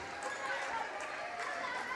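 Dense, steady roar of a crowd cheering a Salem Lady Tigers high school volleyball match win over Cuba, loud and continuous throughout with no pauses.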